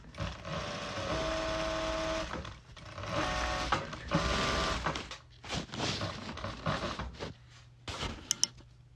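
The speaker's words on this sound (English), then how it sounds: "So now I'm adding a top stitch on the lining." A sewing machine top stitches a pocket lining in several runs of steady mechanical whirring and rapid needle chatter, broken by short pauses and a few light clicks near the end.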